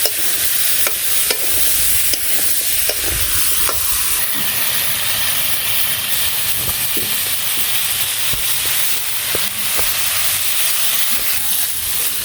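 Pointed gourd with turmeric, chili, salt and green chilies fries in a pan in a Bangladeshi village kitchen, giving a loud, steady sizzle broken by sharp scraping clicks of stirring, with no talk.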